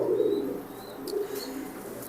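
Racing pigeons, including a cock bird, coo in low, throaty rolls close by, with two or three drawn-out coos over a faint background hiss.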